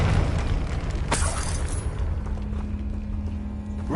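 A Confringo blasting spell explodes in the Hogwarts Legacy video game, a deep rumbling boom with a sharp crack near the start, then a fading low rumble.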